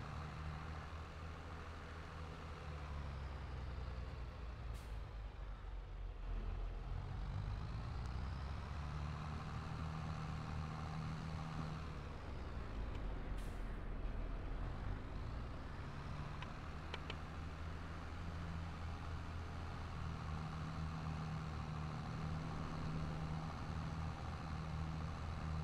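A farm vehicle drives in Landwirtschafts-Simulator 22, its engine a steady low rumble and drone that holds loud and unbroken throughout, with slight shifts in pitch and no talking.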